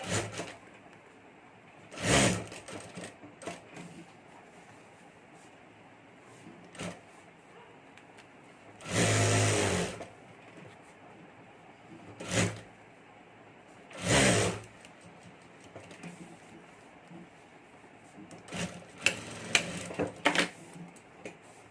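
A sewing machine stitches a zip onto a clutch purse in short bursts, several separate runs of mechanical whirring with quiet gaps of handling between them.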